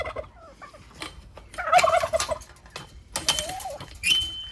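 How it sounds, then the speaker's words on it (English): Domestic turkeys on a mixed homestead flock gobble in several loud rattling bursts close by, with chicken-like clucks and other fowl calls mixed in. "I got turkeys."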